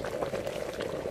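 A kettle boiling in the VR video game Aerie, a close, steady bubbling and rumbling roar of water at a rolling boil, heard alone with no talking.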